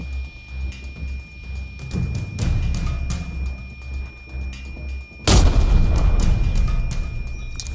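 A video-game grenade in Arena Breakout explodes with a sudden booming blast after a stretch of scattered thuds and rumbling, leaving a loud crackling roar; no one speaks.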